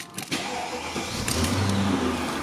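A 2001 Mercedes-Benz CL500 W215 coupe starts up at close range: a short crank catches, and the engine settles into a steady, mid-pitched idle hum with no talking over it.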